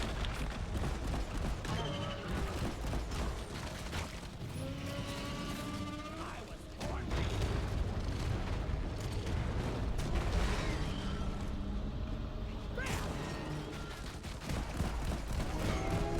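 Anti-tank rounds and grenades fire in the video game Deep Rock Galactic. The result is a dense, continuous barrage of loud bursts and booms with mechanical clatter, and some louder blasts stand out around the middle.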